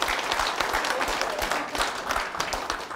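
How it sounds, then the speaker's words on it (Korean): Lecture audience applauding at a talk on Eastern thought, a dense burst of many hands clapping for a few seconds at moderate level, no speech over it. "박수 한번 칩시다"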